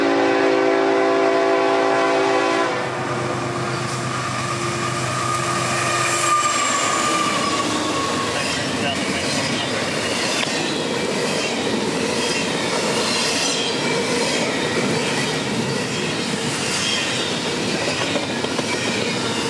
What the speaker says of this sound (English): catch IO44 at 5 o'clock on the dot, one engine and a tidy train of container traffic for Jacksonville